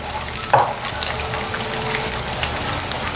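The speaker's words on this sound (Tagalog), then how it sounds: "Next ay maglalagay ako ng tomato paste. Lutuin na muna natin yan." Tomato paste fries in a pan with a soft, continuous sizzle and a brief clatter early on, fairly quiet and alone without talk.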